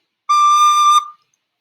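A single clear high D rings out from a wind instrument, held for under a second and then cut off with a quick fade, loud and alone.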